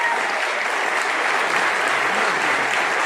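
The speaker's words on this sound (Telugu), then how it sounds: "మీ అందరికీ సమ్మతమైతే చప్పట్లతో ఈ తీర్మానాన్ని ఆమోదించాల్సిందిగా కోరుతా ఉన్నాను" An audience at a meeting claps steadily to approve a resolution. The applause is dense and continuous, with no pauses, for the whole few seconds.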